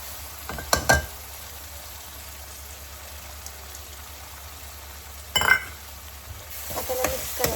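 Soaked mung dal being stirred into spinach (palak) bhaji frying in a pan, with a couple of short scraping bursts of stirring over a steady low sizzle.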